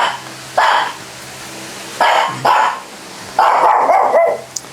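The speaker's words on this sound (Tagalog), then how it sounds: "Mga aso ang kasama" Dogs at a rural family home bark in short bursts, loud and close, with three or four separate volleys of barks and yips spaced apart by quiet moments.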